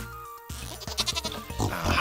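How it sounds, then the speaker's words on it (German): A goat bleats in the Stardew Valley farming video game, with several wavering game-animal bleats over a short, fairly loud stretch after a brief quiet start. "Dann haben wir hier noch eine Ziege."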